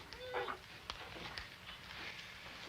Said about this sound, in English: Truly a remarkable dog.